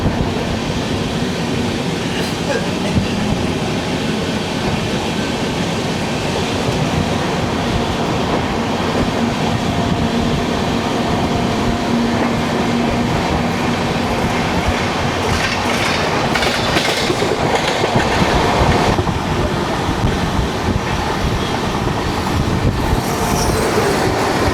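An express train clatters past on rails in India, a steady loud rush of wheels and rattling wagons with rhythmic clicks and some brief metallic squeals, continuous throughout with no voices.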